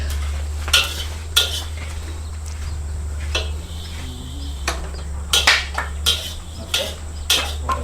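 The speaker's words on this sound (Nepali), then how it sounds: "यहाँ हाम्रो तिल भुट्दै हुनुहुन्छ हाम्रो ठेक सरले।" Sesame seeds are roasted in a pan, with repeated clinks and scrapes of a utensil against the metal at irregular intervals over a steady low hum, close by.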